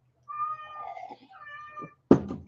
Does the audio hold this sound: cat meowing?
yes